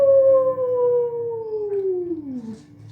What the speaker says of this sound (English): And the miniature does the wolf howl.